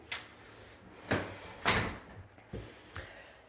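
Double front doors of a 1967 split-level four-bedroom house opening: a handful of separate wooden clunks and bumps spaced a second or so apart, fairly quiet and close, with no talking.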